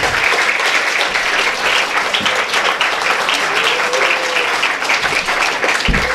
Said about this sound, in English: A good round of applause for them.